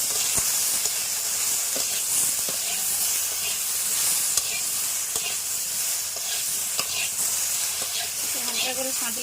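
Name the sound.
sautéing hilsa fish with salt in a pan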